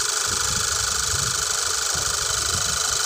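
A car engine runs loud and close at a steady idle during a 12V battery cranking and load test, with a constant droning hum and a faint rhythmic pulse throughout.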